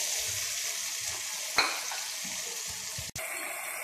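Tomato paste frying with onion, ginger and garlic masala in oil in a wok, a steady gentle sizzle with a single sharp click partway through.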